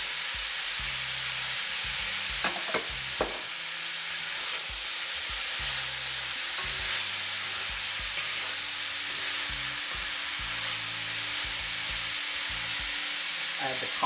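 Carrots frying in a hot kadai for Indian mixed vegetables make a steady hissing sizzle. Clattering stirs and scrapes from a utensil against the pan break in at intervals, with no talk.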